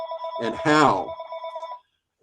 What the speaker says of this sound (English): I apologize for the ringing phone in this room.